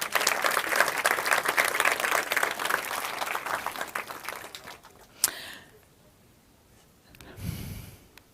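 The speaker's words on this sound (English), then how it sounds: "Let's have a big round of applause for Ukraine." Audience applause rolls on as dense, steady clapping for about five seconds, then fades to quiet, followed by a short sharp sound and a soft breathy burst near the end.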